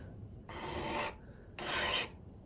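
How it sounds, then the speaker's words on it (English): A knife blade drawn across a sharpening stone as the burr is shaved off, two distinct rasping strokes close to the microphone with a short pause between them. "You can hear that burr getting shaved off of there."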